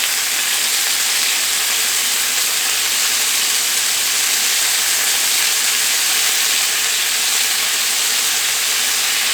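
Beef pieces searing in a pot over medium heat, giving a loud, steady, unbroken sizzle and hiss with no talk.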